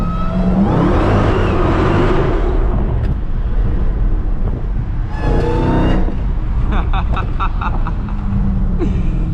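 An 800hp Dodge Hellcat revs hard with its tyres spinning, engine roar loud and continuous from inside the car, swelling and easing across several seconds.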